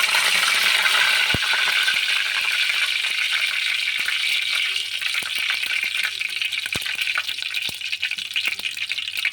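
Curry leaves hit hot oil with fried cumin and mustard seeds, giving a steady bright sizzle with a few sharp ticks and pops close up and no talk.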